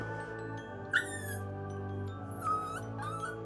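A puppy whimpering in short high squeaky whines, two or three brief cries close by over a steady tonal background hum.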